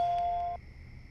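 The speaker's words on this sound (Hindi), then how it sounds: "अरे देखो ना, इतनी रात को भैया फोन कर रहे हैं।" Telephone ringing late at night in a home, heard as a steady electronic ring tone for about half a second that then stops, leaving faint room hiss.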